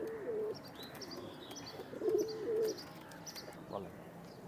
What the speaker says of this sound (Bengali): এটা আমাদের লোকাল কবুতর হ্যাঁ লোকাল কবুতর এটা